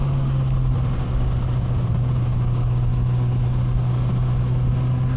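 A Suzuki GSX S1000 motorcycle engine drones steadily while riding, a loud, constant low hum with a strong steady tone and no break for the whole stretch.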